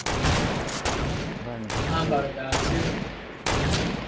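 Sniper rifle shots in a multiplayer shooter: five sharp, loud cracks spaced roughly a second apart, each with a short decaying tail, while a player talks briefly over them.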